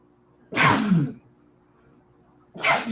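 Two loud, close sneezes burst out about two seconds apart, with near silence between them.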